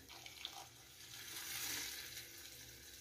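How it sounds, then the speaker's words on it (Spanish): Water is poured into tomato broth in a cooking pan, a faint steady splashing and trickling that swells slightly midway and continues to the end. "También incorporamos el agua."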